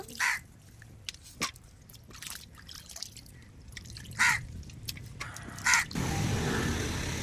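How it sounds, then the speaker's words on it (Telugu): Water squeezed out by hand drips and trickles in scattered drops, then a short steady splash of runoff near the end. "గట్టిగా పిండుకొని వేసుకోవాలండి నీళ్ళు"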